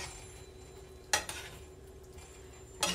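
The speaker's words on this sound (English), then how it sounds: "So we're going to allow it to saute and to cook." Steak sauteing in homemade gravy in a covered pan gives a faint, steady simmering hiss, with two brief clinks of the lid or utensil, one in the middle and one at the end.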